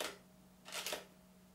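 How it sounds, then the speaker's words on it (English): A Nikon DSLR shutter fires once, a quiet crisp double click of the mirror and shutter with a faint click at the start, heard alone against a low hum. "we can now take our picture."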